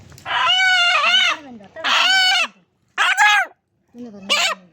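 A large, heavy chicken gives loud, close calls in four separate bursts with short silences between, harsh and rising in pitch like agitated clucking and crowing.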